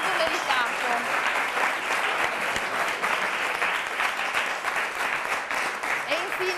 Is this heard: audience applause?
yes